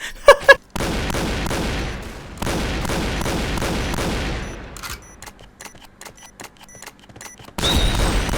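Gunfire from the online shooter game Point Blank: sustained rapid automatic bursts, then scattered single shots and a final loud burst, all close and sharp, with no voices.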